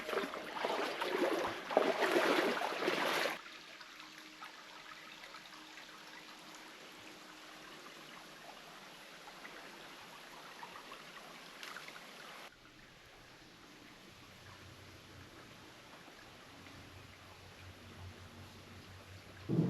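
A narrow river flows along a hiking trail on the Sella Bay and Cetti Falls loop in Guam, with a loud rushing burst at first, then a steady, softer flowing murmur with no voices.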